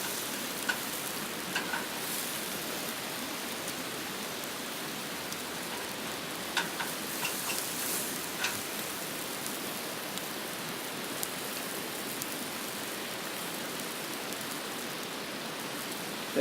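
Mushrooms frying in butter outdoors during an ice storm, a steady broadband sizzle with faint crackles that runs the whole time at moderate, even loudness.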